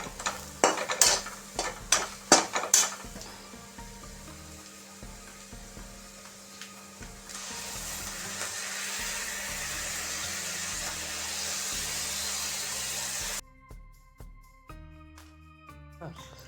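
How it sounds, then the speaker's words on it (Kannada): Ground pulav masala frying in a pan starts with sharp clanks of a spoon against the pan, then settles into a steady sizzle before cutting to quieter sounds. "ಈಗ ಮಿಕ್ಸಿಯಲ್ಲಿ ನಾವು ಮಾಡ್ಕೊಂಡಿದ್ದೇವಲ್ಲ ಮಸಾಲೆ, ಅದನ್ನು ಹಾಕಿ ಚೆನ್ನಾಗಿ ಒಂದು 2-3 ನಿಮಿಷ ಫ್ರೈ ಮಾಡಬೇಕು."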